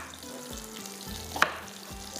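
Capsicum, green onion and green chillies fry gently in a pan over a low flame, giving a soft, even sizzle with an occasional light stir and one brief sharp clink; no one speaks.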